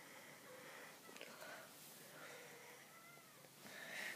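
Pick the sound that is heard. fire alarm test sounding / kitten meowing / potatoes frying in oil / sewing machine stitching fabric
kitten meowing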